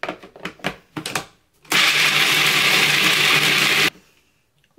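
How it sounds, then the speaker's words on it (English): A blender chops handfuls of almonds for a tart crust in one loud, steady whir of about two seconds. Several sharp knocks come just before it, and the clip ends in quiet. "First thing I'm gonna do is put in my almonds because those have to get chopped up."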